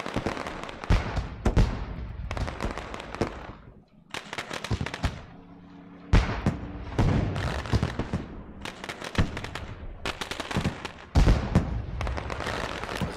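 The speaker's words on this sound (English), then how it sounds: "Fireworks go off in the background." Fireworks explode over Charlotte after a truck series race, with repeated clusters of loud cracking bangs and rattling bursts separated by short lulls, going on for several seconds with no talk.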